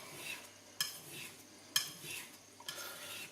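A knife is drawn across a water stone in steady scraping strokes, about one stroke per second with a sharp click at each turn, quiet and close, with no talking.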